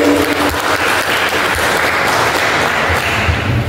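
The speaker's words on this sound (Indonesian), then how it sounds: "Aplaus dulu untuk regu B" Steady, dense applause from a crowd for a team at a school quiz competition final, loud and sustained throughout with no break.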